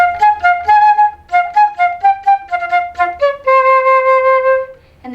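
A solo flute plays a phrase of short tongued notes, then sustains a long held C to close the line, clear and close with nothing else heard.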